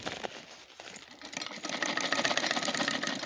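A sewing machine stitches cloth in a continuous, fairly loud mechanical run, quieter at first and then steady to the end, with no voices.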